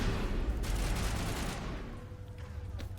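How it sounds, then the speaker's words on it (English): Rapid gunfire and explosive bursts from an enemy launching missiles in the Mass Effect video game, a dense clattering barrage that fades after the first second and a half. "Dude is just immediately launching missiles."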